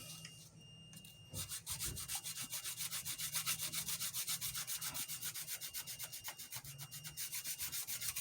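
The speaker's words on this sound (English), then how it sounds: "After I get done sanding all my previous filler out" Fast rhythmic back-and-forth hand sanding rasps against filler on a 3D-printed prop gun, steady and close, after a quieter stretch with a faint high tone.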